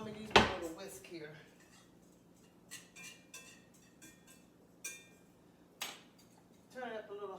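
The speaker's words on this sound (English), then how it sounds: "So while that is cooking, I'm gonna use my little whisk here" A small whisk works through homemade gravy in a pan, giving scattered metallic taps and clinks against the pan with quiet stretches between them, at moderate distance.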